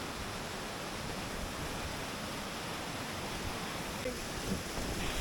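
Water crashes down steadily at the Gordale Scar waterfall, a dense, continuous roar with no breaks, heard close and at a moderate level.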